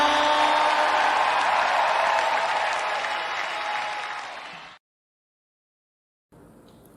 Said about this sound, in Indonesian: Memberikan sorak-sorai yang paling meriah bagi Tuhan.